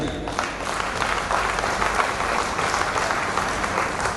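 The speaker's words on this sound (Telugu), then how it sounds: "ఒకసారి గట్టిగా క్లాప్స్ అండి" A crowd at a Hyderabad open-plots company meeting claps loudly and steadily, a dense, continuous wash of applause that holds for the whole stretch without pause.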